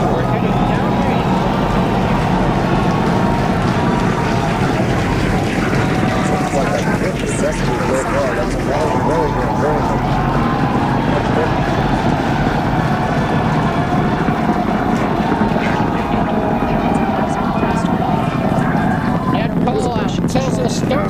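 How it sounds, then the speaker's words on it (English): Continuous roaring rumble of a Starship launch, its 33 Raptor first-stage engines broad and steady with a deep low-end, sustained throughout without breaks. "33 Raptor engines powering the first stage"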